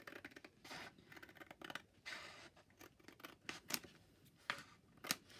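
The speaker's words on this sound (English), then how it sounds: "just get the scissors and trim that little bodgy bit off." Scissors snip and trim a scrap of paper up close, with a quiet run of irregular cuts, rustles and scratchy slices, a few sharper clips standing out.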